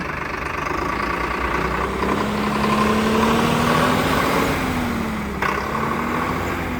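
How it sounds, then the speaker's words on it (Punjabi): A Swaraj tractor's engine runs at a steady idle after starting, a low rumbling drone that rises slightly in pitch midway and settles again, nearby and loud. "ਸਟਾਰਟਿੰਗ ਚੈੱਕ ਕਰੋ ਟਰੈਕਟਰ ਦੀ"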